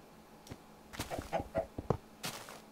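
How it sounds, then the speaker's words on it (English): A Minecraft chicken clucks in a few short, soft bursts, faint and close, with small clicks in between. "There's a chicken waiting at the back door."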